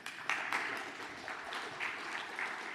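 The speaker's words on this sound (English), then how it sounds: "Big round of applause." Audience applause after a conference talk on decentralized confidential computing: a steady wash of many hands clapping, fairly close and moderately loud, holding evenly for a few seconds without voices.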